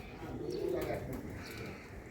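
Pigeons on a rooftop give soft, low cooing calls at a moderate distance, one rolling coo standing out above faint background noise, with no speech.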